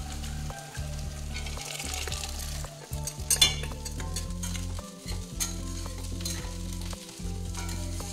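Boiled beans fry and get stirred in spiced oil in a pan, giving a continuous close sizzle with repeated scraping and clinking of a spoon against the pan.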